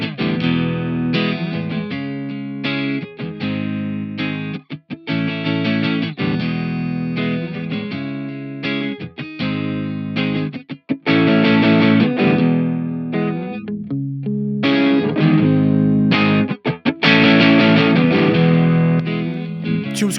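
Electric guitar played through a Fat Blob compressor pedal with the gain set high, giving a thick, dense, sustained distorted tone in chords and riffs, loud and steady throughout with short breaks between phrases.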